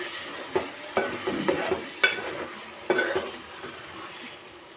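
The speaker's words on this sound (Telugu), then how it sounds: "ఇప్పుడు చికెన్ అయితే ఇలా మగ్గుతుంది" Chicken cooks in a pan with cardamom, cloves, cinnamon stick, shahi jeera and curry leaves for a Sunday chicken dish, giving a steady close sizzle broken by repeated sharp scrapes and knocks of stirring.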